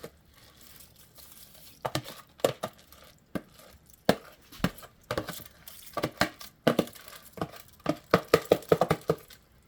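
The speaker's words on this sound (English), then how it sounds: "Pouring the rice in there." Dry rice pours into a pot of boiling water, giving irregular bursts of rattling, pattering grains that grow denser toward the end, close and moderately loud.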